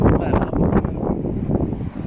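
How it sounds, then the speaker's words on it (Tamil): Strong wind gusts through a sandstorm in Kuwait, a loud, roaring, buffeting rush battering the microphone continuously, with a voice faintly mixed in. "காத்து"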